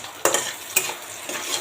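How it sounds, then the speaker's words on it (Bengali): Onion and egg frying in a pan on the stove, heard as soft steady sizzling with a few sharp scraping strokes of a stirring utensil close by. "এখানে আমার পেঁয়াজ আর ডিমটা ভাজা হয়ে গেছে"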